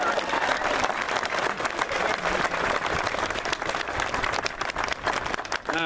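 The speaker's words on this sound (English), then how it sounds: "So a big round of applause for Kevin Miller." Crowd at an outdoor Second Amendment rally in Idaho claps and cheers loudly and continuously, with dense overlapping hand claps and some indistinct voices mixed in.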